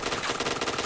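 Rapid automatic gunfire from a shooter video game, a dense continuous burst of shots with a steady rattling rhythm, fairly loud and unbroken throughout, with no voices over it.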